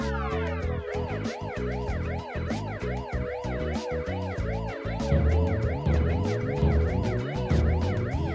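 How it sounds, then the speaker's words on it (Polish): A cartoon fire truck siren in a children's animated game wails loudly and continuously in fast rising and falling sweeps, with a bouncy backing rhythm underneath and no talking. "Fenomenalnie! Złapałeś wóz strażacki!"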